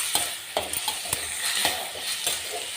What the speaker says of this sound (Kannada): ಹಸಿ ವಾಸನೆ ಹೋಗುವವರೆಗೂ ಚೆನ್ನಾಗಿ ಫ್ರೈ ಮಾಡೋಣ